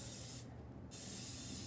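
Cooking spray hisses onto a pan in two bursts, loud and close, with a brief gap between them.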